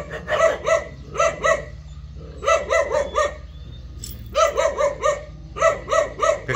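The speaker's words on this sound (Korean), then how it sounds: "암캐들이 저렇게 짖는 거예요." Female Jindo dogs bark in repeated clusters of sharp, loud yaps, several dogs calling close by with short pauses between bouts.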